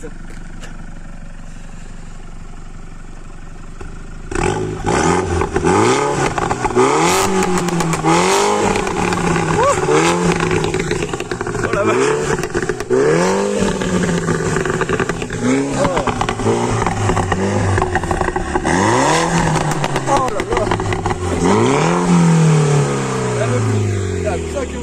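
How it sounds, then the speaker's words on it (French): A Mini John Cooper Works F56 with a Stage 1 tune revs repeatedly from idle, each rising throttle blip followed by popping and crackling, loud and close, with excited voices reacting between revs. "Tu nous mets 2-3 petits coups de gaz qu'on entende"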